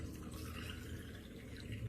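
Coffee 'mud' mixture poured into a glass over ice, oat milk and vanilla syrup; a close, continuous liquid pour and splash lasting about two seconds, with no talking.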